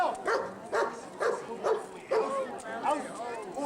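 A trained police-style dog barks and whimpers in repeated bursts while gripping a bite sleeve at a 1996 block party in Cumberland, Maryland, the yelps close and loud over crowd noise.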